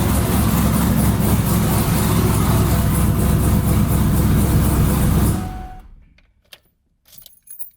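A twin-turbo Mustang engine runs hard with a rough, rattling roar, then suddenly cuts out, leaving near silence with a few faint clicks; its kill switch fails to stop it.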